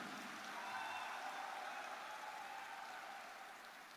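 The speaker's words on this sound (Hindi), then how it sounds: "ऐसे हमारे प्रमोद बोरो जी के लिए भी एक जोरदार ताली होना चाहिए।" An audience at a Bodoland Mohotsov gathering in Udalguri applauds for Pramod Boro: a dense, steady wash of many hands clapping together, fairly faint and distant, fading slightly toward the end with no voices over it.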